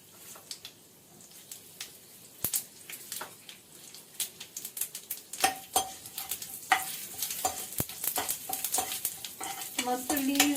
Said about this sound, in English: Mustard seeds have started popping out.